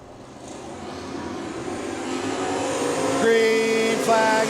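Sprint car engines at Crawford County Speedway rising in a building roar as the heat race gets the green flag, growing louder over a few seconds with high revving whines near the end.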